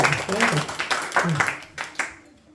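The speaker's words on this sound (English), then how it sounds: "Give a round of applause." A short burst of clapping from a small Bhagavad Gita study group, mixed with a voice, fading out after a couple of seconds.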